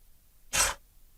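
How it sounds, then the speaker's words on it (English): A single short sneeze, near and fairly loud, breaks a quiet moment in a home recording setup. "Sneezing there."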